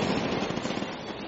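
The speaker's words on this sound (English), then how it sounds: "That's an MG from the south." Dense, rapid crackle of enemy machine gun fire in a military video game, sustained and loud throughout with no pauses between the bursts.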